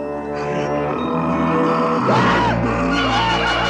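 In a Lost in Space episode, a man yells and bellows in alarm at a strange creature, a loud, rising, strained cry over music and tense sound effects.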